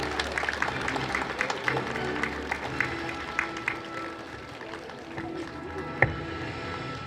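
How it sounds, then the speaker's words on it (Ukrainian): Audience applause at a school awards ceremony for the last bell, a fairly quiet, sustained patter of many hands clapping in a hall, with a few sharper claps standing out. "Ваші оплески."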